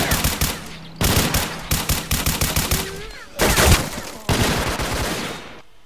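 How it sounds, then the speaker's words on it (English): Gunfire in STALKER Clear Sky, rapid bursts of machine-gun shots hammering near a wall in several loud volleys separated by short pauses, with no talking. "He's just shooting at the wall near the machine gun."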